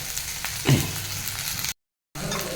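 Okra sautéing in a pan for a Kerala buttermilk curry, a soft hissing fry with one brief scrape, near and fairly quiet, cut by a short gap of silence before the sizzle resumes.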